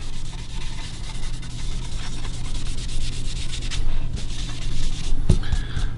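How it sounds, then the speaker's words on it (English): Cloth rubbing stain into a quilted maple guitar top, a continuous close scrubbing swish over a low steady hum, with a couple of sharp knocks near the end. "And just rub this in."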